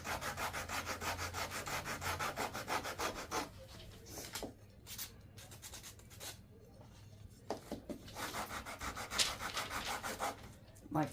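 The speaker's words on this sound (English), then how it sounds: "My quick sander." A small handheld electric sander works over a wooden craft piece for smoothing before painting, a steady close buzzing rub that drops out briefly in the middle and resumes, with no talking.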